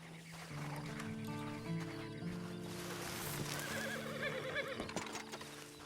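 A horse in Red Dead Redemption 2 lets out a long, clear whinny over soft hoof clops, close and fairly quiet.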